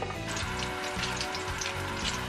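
Garlic sautéing in olive oil gives a steady, close sizzle with a fine crackle that runs unbroken from start to finish, and no voices come through over it.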